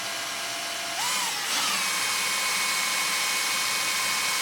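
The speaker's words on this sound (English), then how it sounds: "as you first start drilling," A power drill whines loudly and continuously as it drills into acrylic, its pitch jumping as it bites in and then holding at a high, steady spin.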